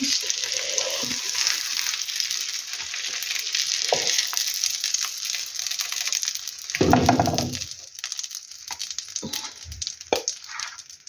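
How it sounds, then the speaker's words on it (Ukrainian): Marinated chicken breast chops fry in a pan with a steady close sizzle and crackle, punctuated by louder spatters and clinks as pieces are moved. "І так далі буду продовжувати смажити"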